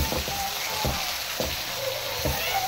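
Egg and diced potato sizzle steadily in a pan as they are stirred together, a constant crackling hiss with soft spoon scrapes and taps every second or so, close and moderately loud.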